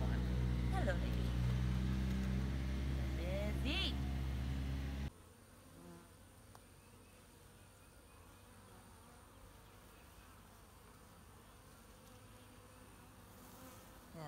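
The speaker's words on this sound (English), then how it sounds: "Yeah, this is a full hive." Honeybees swarm around a full hive with a dense, close buzzing drone that drops sharply to a quieter, more distant hum partway through.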